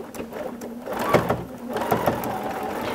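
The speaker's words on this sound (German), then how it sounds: "Ich starte in einer Ecke und nähe los." A sewing machine stitches around a project from a corner, a close, loud whirring run with a few uneven bursts of stitching and no talking.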